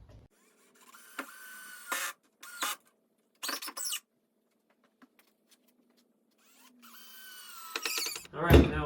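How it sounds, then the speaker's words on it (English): Power drill driving screws into a camper shell storage rack, with short bursts of whirring separated by pauses and a louder burst near the end. "I can run my screws in here"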